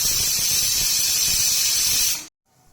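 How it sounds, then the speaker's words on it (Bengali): Pressure cooker of peas on the boil, letting off a loud, steady high steam hiss that runs nearly continuous before cutting off abruptly, leaving near silence. "মটর আমি কুকারে নিয়ে নিয়েছি, ঢাকনা দিয়ে 3 থেকে 4 সিটি লাগিয়ে মটর সিদ্ধ করে নেব।"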